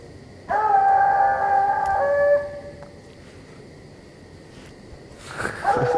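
A hunting dog gives a single long, steady howl of about two seconds at moderate distance outdoors, followed by quieter background and a faint rustle.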